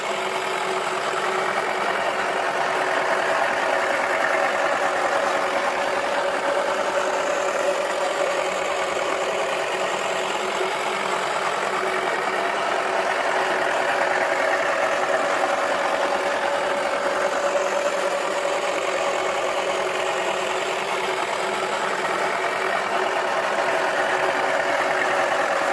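A toy washing machine runs steadily, with a continuous motor hum and rattling vibration that stays loud and close for the whole stretch, with no talk over it.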